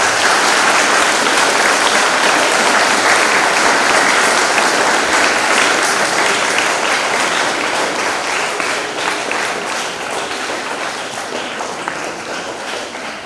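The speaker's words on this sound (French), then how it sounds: "Je vous demande de les applaudir," Sustained applause from a church congregation at Mass for a school choir, a thick, loud roar of many hands clapping that carries steadily and eases slightly toward the end, with no talking heard.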